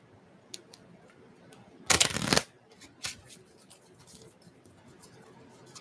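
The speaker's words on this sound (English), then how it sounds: "Let's shuffle these and let's kind of see what we can get," A deck of True Love tarot cards gets one quick riffle shuffle, a loud burst of fluttering card flicks lasting about half a second, followed by a few lighter taps and shuffles of the cards nearby.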